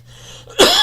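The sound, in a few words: cough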